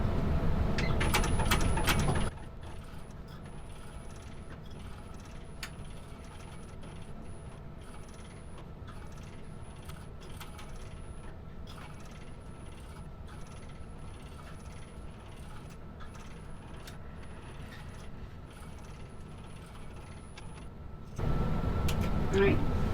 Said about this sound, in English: I'm going to top stitch around this rounded edge